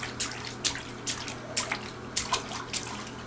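A child splashes in a sudsy bathtub: repeated wet slaps and splashes, roughly two per second, close by and fairly distinct, with no talk.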